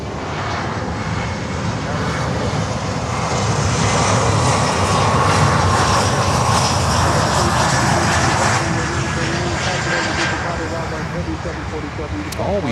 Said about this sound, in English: we have UPS coming in on runway 8 with a 767-300 from Santo Domingo